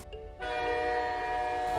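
A train at an old railway station in a village setting, with a sustained loud rumble and steady tonal hum that starts abruptly after a short quieter moment and holds steady throughout.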